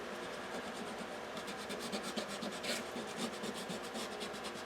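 Steady soft scraping and rubbing of blue color being worked onto paper with the hand, a close, continuous dry rasp with faint repeated strokes and no talking.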